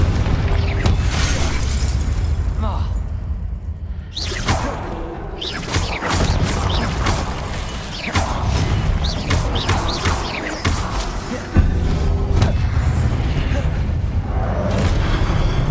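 Confringo blasting spell explosions in Hogwarts Legacy, repeated loud booming blasts with whooshes and crackling bursts over a dense rumbling combat bed, with a voice shouting spell names among them.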